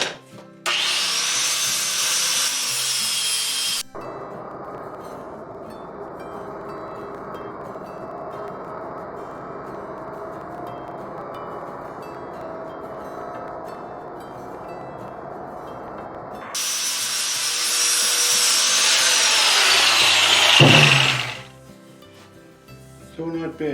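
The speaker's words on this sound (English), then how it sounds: "I'm going to buff it off. I just have a flat disc on my grinder" An angle grinder with a flat disc buffs a steel plow skid shoe, loud bursts of abrasive whine at the start and end with a quieter steady hum between, no talk.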